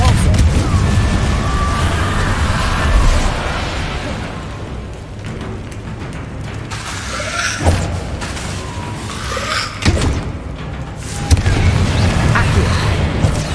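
Repulsor spell blasts in the video game Hogwarts Legacy, on hard mode: several booming, thudding bursts at irregular intervals over dense combat noise.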